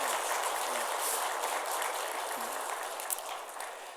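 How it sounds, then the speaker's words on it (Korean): A church congregation applauds during a Korean Sunday service, a steady dense wash of clapping that holds evenly for the whole stretch and tapers slightly near the end. "우리 박수로 격려하도록 하겠습니다"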